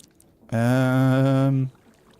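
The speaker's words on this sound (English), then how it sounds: "that goat every so often kind of scares the tar out of me" A single drawn-out goat bleat from the Minecraft modpack StoneBlock 4, a clear, loud, steady-pitched cry lasting about a second, with quiet before and after.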